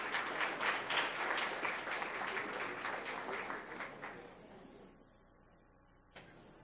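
Audience at an award ceremony applauding recipients, dense clapping from a crowd that gradually thins and fades out over several seconds, followed by a faint room tone and a single late thump.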